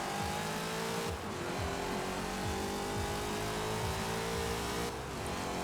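A drag-build car in Forza Horizon 4 launches hard off the line, engine revving loudly through rapid upshifts with brief tire squeal, a steady roaring acceleration broken by two quick gear changes.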